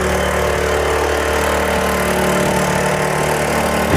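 R525 10 HP floating power tiller engine running on a paddy field: a loud, steady small engine chugging at constant speed, close and continuous with no talk.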